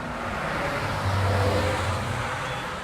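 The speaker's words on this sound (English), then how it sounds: "here comes a vehicle." A single car passes on a road while someone is out running, a steady broadband whoosh of engine and tyre noise that swells to its loudest midway and then eases off.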